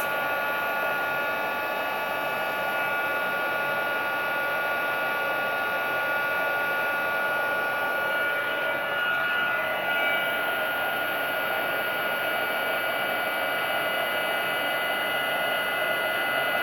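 Hot air roars steadily from a nearby heat gun heating embossing paste, a constant whirring blast with a thin whine on top that never lets up.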